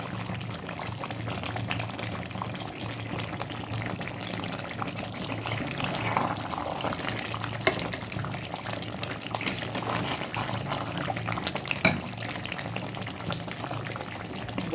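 Meat cooks in a pot for a Ramadan meal, a steady bubbling simmer with soft liquid gurgles, close and continuous without talk.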